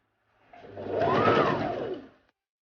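A sewing machine stitches a kaftan seam in one smooth run, its motor rising and then fading over about two seconds, close and fairly loud, with no talk over it.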